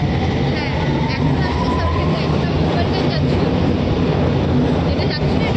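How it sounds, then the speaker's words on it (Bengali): A London Underground metro train pulls away from the platform with a loud, dense rumble and rising hum, a voice speaking over the roar. "আমরা এই মেট্রোটা ছেড়ে দিলাম।"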